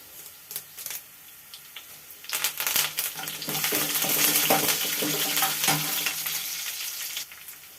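Tempering spices dropped into hot oil for a lentil and drumstick-leaf dish, a few scattered pops followed by a loud, steady sizzle that swells and holds close up before easing off.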